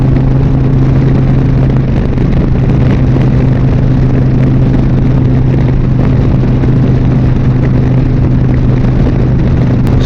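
A motorcycle riding along a road, heard as a loud, steady engine drone with heavy wind rumble throughout, no talking.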